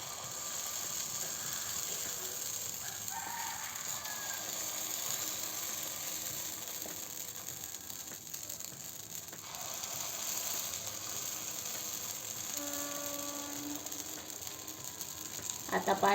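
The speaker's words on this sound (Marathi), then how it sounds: "मिश्रण घालू अप्पे पात्रामध्ये." Rice and urad dal batter sizzling in an appe pan, a continuous crackling fry heard throughout with occasional metallic clicks and brief faint background tones.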